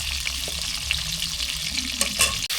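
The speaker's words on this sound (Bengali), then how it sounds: "মাছের মাথা দিয়ে রান্না করব তাই মাছের মাথাটা ভেজে নিচ্ছি" A snakehead fish head frying in oil in a pan, giving a close, loud, dense sizzle and crackle with a few sharper pops, heard alone throughout.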